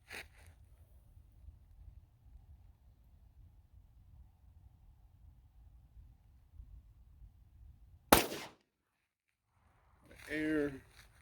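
A single sharp, loud gunshot from a Smith & Wesson SD9VE 9mm pistol firing Winchester 115 grain JHP ammunition, cutting through quiet room tone and followed by a short burst of talk.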